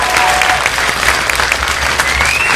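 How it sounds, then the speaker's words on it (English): A theater crowd at a Chester Bennington tribute claps loudly for Thora Dowdell, a thick, continuous burst of applause with a rising whistle and cheers mixed in. "Please give her a round of applause"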